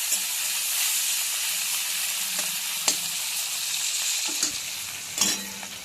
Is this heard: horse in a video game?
no